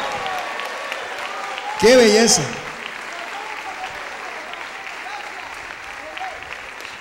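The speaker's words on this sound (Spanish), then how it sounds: "Denle un aplauso a él con gozo." A church congregation breaks into a short burst of clapping while someone speaks warmly, followed by quieter room ambience and murmuring.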